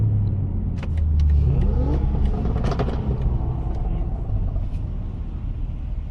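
A race car engine revs hard at a loud street car meet, with a deep rumbling low end and rising throttle sweeps, heard close and continuous over crowd noise and brief voices.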